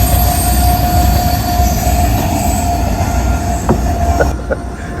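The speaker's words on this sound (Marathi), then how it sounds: "कशी वाटते ट्रेन" A train rolls past loudly and close, wheels rumbling steadily on the rails with a few sharp metallic squeals toward the end.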